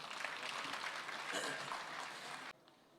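Audience applause at a first-look poster launch for the film Thirukkural, steady dense clapping that cuts off abruptly near the end, leaving a quieter room tone.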